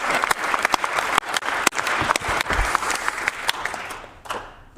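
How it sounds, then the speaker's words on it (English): A broadcast audience applauds a team, with dense, sustained clapping from many hands and a few louder individual claps standing out, fading slightly toward the end. "The clapping's for you, not for me"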